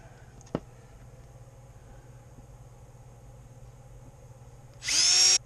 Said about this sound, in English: just making some pilot holes in case I go through